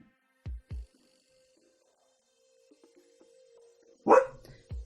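A dog indoors gives two short, muffled low woofs, then after a quiet pause with faint room hum lets out one louder, sharper bark.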